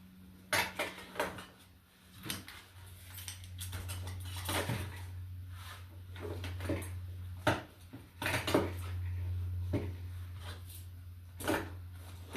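A camping cook kit is handled, its metal pots and utensils clinking and clattering in irregular bursts close by, with a low hum running underneath and no talking.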